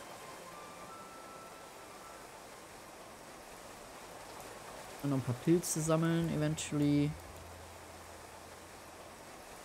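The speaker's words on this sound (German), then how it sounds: "Ja, ich weiß, alles Regen." Steady rain hisses continuously in the video game Clanfolk, a soft, even wash that runs the whole time, with someone speaking over it partway through.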